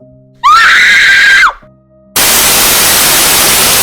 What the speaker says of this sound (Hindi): स्पीकर से एक तेज चीख निकली और वो अपने आप बंद हो गया।